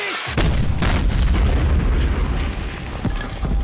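Heavy explosion from a grenade blast in wartime combat, a loud booming burst followed by sustained rumbling roar and debris, with further dull thumps near the end, close and filling the whole clip.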